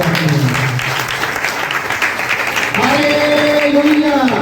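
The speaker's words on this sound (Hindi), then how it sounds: "गुरु प्रभु यीशु मसीह की जोरदार ताली बजाइए।" Loud, sustained applause from a church congregation, a dense wash of clapping throughout, with a voice and faint musical tones coming in over it in the second half.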